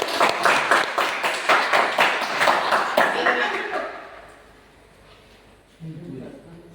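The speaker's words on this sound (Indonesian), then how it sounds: "Oke, tepuk tangan." A class of students at SMKN 1 Mimika claps together in a quick, steady rhythm for about four seconds. The clapping then fades to a quiet room, and a voice begins near the end.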